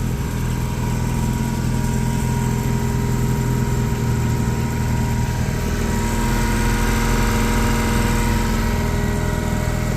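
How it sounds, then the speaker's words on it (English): A newly upgraded inflator pump runs on a fracking job site, giving a loud continuous engine drone with a steady high whine and no change in level throughout. "We're going to try this new inflator pump out for the first time."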